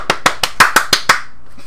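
Hands clapping as applause: seven sharp, evenly spaced claps close by, loud and alone, ending abruptly.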